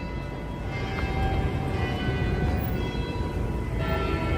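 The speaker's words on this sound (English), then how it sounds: "Church bells." Church bells ringing out over a busy New York City street, a steady resonant peal blended into constant low traffic rumble for several seconds.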